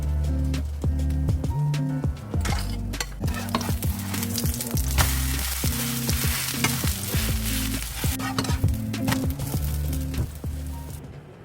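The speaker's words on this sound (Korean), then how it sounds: "계란 한 개와 감자 전분, 밀가루를 섞어 노릇하게 부침개를 구워주었습니다" A pancake of egg, potato starch and flour sizzles loudly and steadily in a frying pan nearby, with repeated scraping and tapping of a utensil against the pan over the sizzle and no talk.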